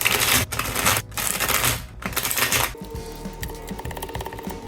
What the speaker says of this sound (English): shuffle the deck and deal 7 cards to every player